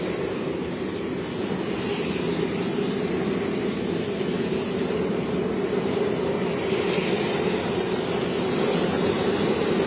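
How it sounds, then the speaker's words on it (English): A helicopter flies near a law enforcement event in Nassau County, New York, giving a loud, steady engine and rotor drone that holds for the whole stretch without a break. "The Oscar helicopter."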